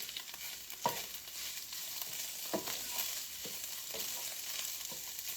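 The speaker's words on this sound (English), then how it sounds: "Turn that down because this is just going to simmer." Homemade spaghetti sauce with garlic salt simmers in a pot, giving a steady, soft sizzling hiss broken by a few sharp clinks and scrapes of stirring.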